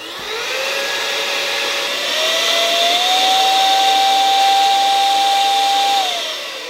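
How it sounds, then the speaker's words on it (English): A Zarimi electric air duster with a cone nozzle attachment blows a loud, steady high-pitched whoosh and whine that rises slightly in pitch after a few seconds, then trails off at the end. "This is focusing all of that air down through this cone and out this little tip."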